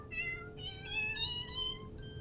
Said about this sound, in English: students can switch from cat sounds